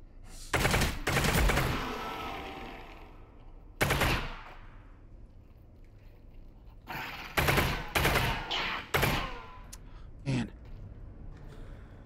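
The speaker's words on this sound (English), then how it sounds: "I guess I'll use the SMG now" SMG bursts in Half-Life: Alyx, played in VR on an HTC Vive: several sharp, loud automatic volleys with pauses between them, each burst ringing out briefly, plus a few quieter single shots near the end.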